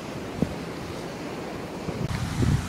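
Ocean surf washes onto Negombo Beach in Sri Lanka: a steady roar of waves with wind buffeting the microphone, growing slightly louder toward the end.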